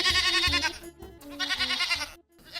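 Baby goats bleat in quick, wavering cries, several overlapping calls close by with short pauses between them.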